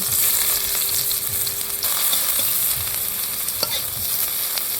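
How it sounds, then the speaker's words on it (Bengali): Chopped onion fries in oil with turmeric and salt, a steady close sizzle running throughout with occasional faint scrapes and taps from stirring, and no voices. "হলুদ লবণ দিয়ে তেলের মধ্যে আংচিয়ে নিচ্ছি"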